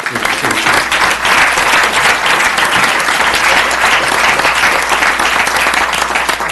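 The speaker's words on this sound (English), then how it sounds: "So let's give them a round of applause for their service." Steady, dense applause fills a city council meeting room, sustained at an even level from start to finish with no talk over it.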